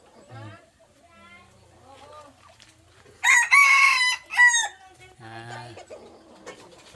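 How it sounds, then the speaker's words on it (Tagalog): Red junglefowl and bantam chickens kept in a rural backyard, loud close crowing bursts mid-way amid scattered clucks, with someone talking over the quieter stretches. "Update muna tayo sa ating mga alagang labuyo at saka mga bantam."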